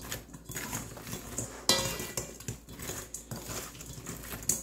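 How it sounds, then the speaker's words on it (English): Chicken wings being tossed and mixed in a bowl for hot honey wings, with soft wet stirring and clinks of a utensil against the bowl, fairly quiet and close. "Then we're just going to kind of mix it up."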